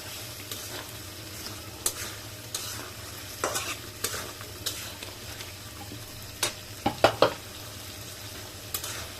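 A spoon stirs chicken feet masala in a pan, scraping and sizzling in a steady, close rhythm with a few sharper clinks of utensil on metal near the end; no one speaks.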